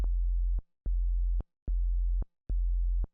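An NI FM8 vowel-style FM bass synth patch, transposed down an octave, plays four held low notes of equal length with short silent gaps between them, clean and alone.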